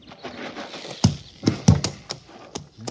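A horse moves about on hard ground at an army fort, giving several uneven clip-clop hoof thumps close by with a light rustling bed of noise between them.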